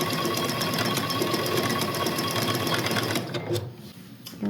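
A sewing machine runs steadily, stitching a decorative stitch row on an apron with a fast, even mechanical whir, then slows and stops near the end with a few clicks.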